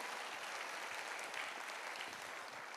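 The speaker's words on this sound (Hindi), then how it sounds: "सारे के सारे लोग तालियां बजाएंगे" An audience at a speaking event claps together in a steady, even burst of applause, heard at a moderate distance with no voices over it.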